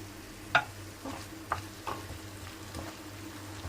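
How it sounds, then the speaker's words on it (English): A creamy mushroom sauce with Worcestershire simmers and gently sizzles in a pan, a spoon tapping and scraping now and then; faint, close and steady, with nobody speaking. "let it simmer"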